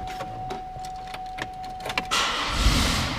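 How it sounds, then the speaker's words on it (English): A power sunroof motor runs in a Chevrolet Monte Carlo with a leather interior, giving a steady whirring hum close by inside the cabin after a few light clicks, with no talking. "Power sunroof."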